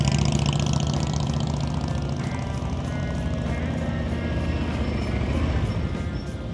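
Motorcycle engines run steadily at a practice session, a continuous loud drone with fluctuating throttle holding at a constant level throughout, with no talk.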